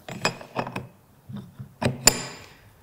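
Metal clicks and knocks as a reaction arm is fitted onto a battery-powered Norbar EBT 800 torque multiplier, several short close taps in small clusters with quiet gaps, ending in one sharper click.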